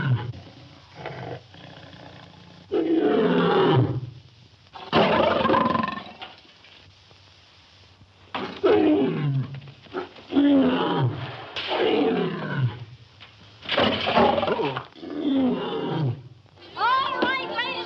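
A lion roars in a 1941 comedy film, with several loud, rough bursts separated by short pauses and mixed with people talking.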